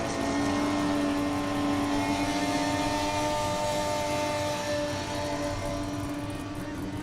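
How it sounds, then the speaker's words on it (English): A VA Falcon drift car at full power during a drift championship run, a sustained high-revving engine scream with a steady pitch held for several seconds, loud and continuous. "That is every single horsepower that VA Falcon has"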